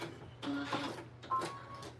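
A sewing machine back stitches in two short, quiet mechanical bursts separated by a brief pause, with no talk.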